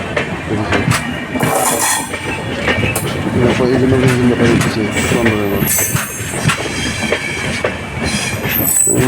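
A fast-moving train passing through Guwahati railway station, bound for Agartala, with loud clattering wheels, screeching metal squeals and steady rumble close by, while someone talks over the noise.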